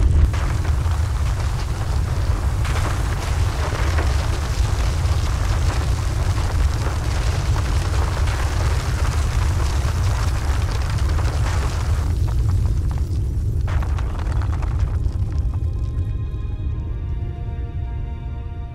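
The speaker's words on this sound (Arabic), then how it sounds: "هذا الزلزال خطير" A massive earthquake tears through Los Santos in GTA V, producing a loud, continuous roar of rumbling and crashing destruction that persists without pause, with no voices over it.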